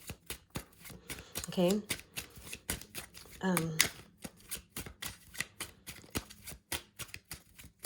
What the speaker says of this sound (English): I'm going to shuffle for one more card.